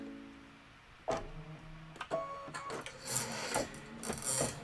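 An embroidery machine runs a quilting stitch, giving a soft, quick mechanical ticking and whirring that starts after a quiet moment and carries on steadily at low volume.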